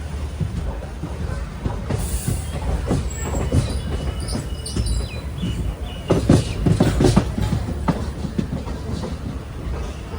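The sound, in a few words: passenger train running on rails, Tirunelveli to Kanniyakumari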